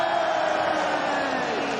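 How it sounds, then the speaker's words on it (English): A large arena crowd at a League of Legends esports semifinal between Fnatic and Rogue roars loudly and steadily, a dense wash of cheering that fills the whole moment, with a voice faintly mixed in. "The crowd erupts."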